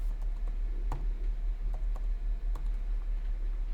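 Quick, irregular keystrokes tapped on a computer keyboard as a name is typed, light clicks spaced unevenly with a steady low hum beneath and no talking.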